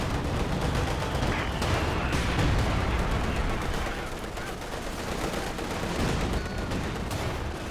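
Anti-tank gun rounds striking a KV-1 tank in Company of Heroes 2, heard as a dense, continuous barrage of battle gunfire and impacts that stays loud throughout.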